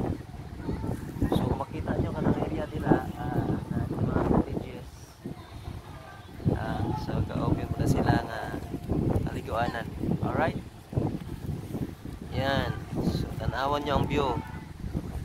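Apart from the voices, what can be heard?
wind blowing at the sea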